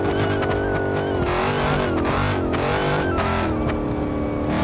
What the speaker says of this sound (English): I'm gonna try to drift through the neighborhood with no traction.